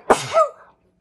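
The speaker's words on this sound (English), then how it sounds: "Excuse me, I'm going to sneeze." A single sneeze during a Bible reading and discussion: a sharp, loud burst followed by a short voiced tail, lasting under a second and then silence.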